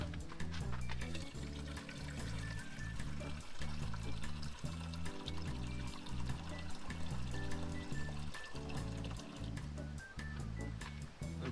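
Water pours from a kitchen tap into a pot to soak cut sweet potato fries, a steady continuous splashing and trickling stream close by, with faint kitchen noise.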